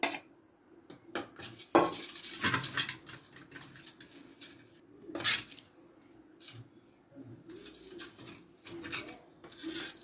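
A spoon or utensil scrapes and stirs in a bowl while masala and colour powder are mixed into batter for French fries, giving soft irregular scraping, clinks and wet squishing, close and fairly quiet, with no talking.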